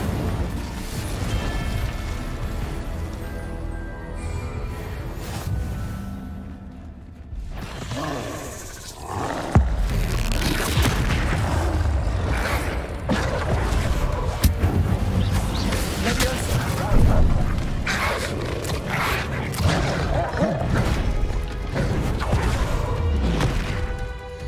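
In Hogwarts Legacy, the Incendio fire spell is cast with a sudden roaring, crashing blast over a music bed, followed by a sustained rumbling burn. A voice talks throughout.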